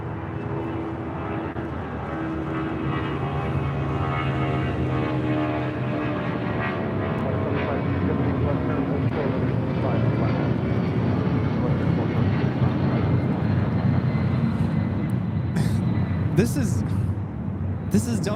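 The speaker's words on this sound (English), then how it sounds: "This is Delta Airlines 631 taking off to Mexico City on a 757 200." A Delta Airlines Boeing 757-200 jet roars steadily on its takeoff run at LAX, a loud continuous engine rumble with rising whine, while a person talks over it.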